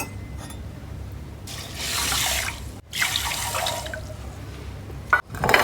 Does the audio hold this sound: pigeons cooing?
no